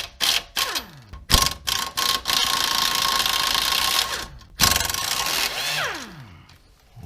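A ratchet or power tool loosens the nuts and bolt on the lower control arm of a Toyota Corolla. Close, rapid whirring bursts alternate with short pauses over several seconds.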